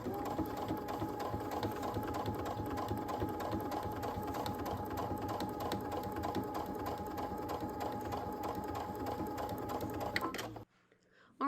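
A sewing machine runs continuously and close by, stitching around the edge of a piece of fabric with a fast, even mechanical patter, then stops abruptly near the end.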